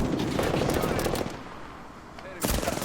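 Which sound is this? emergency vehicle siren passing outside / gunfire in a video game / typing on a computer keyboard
gunfire in a video game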